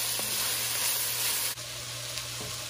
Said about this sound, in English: Just gonna cook this down until it gets soft and translucent for the onions